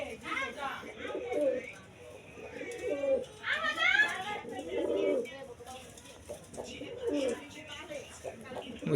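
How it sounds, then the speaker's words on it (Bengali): Tournament racing pigeons coo repeatedly in a loft, with soft throaty calls mixed with scattered chirps and rustling close by; a voice talks in the background at times. "তো টুর্নামেন্ট খেলা কবুতরগুলো আপনাদের একটু ধরে দেখাবো।"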